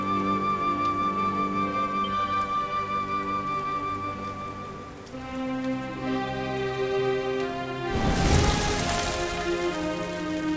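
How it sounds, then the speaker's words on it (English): Rain falls steadily in a Dragon Quest XI game scene under sustained tonal music, with a loud rushing swell near the end. "Looks like the rain's dying down."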